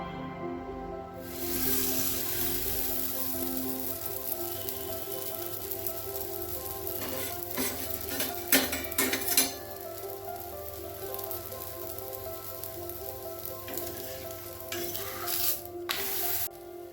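Wheat parotta cooks on a hot dosa griddle with a steady, close, broadband sizzle that runs the whole time, swelling into louder crackling bursts partway through and again near the end, with no voices.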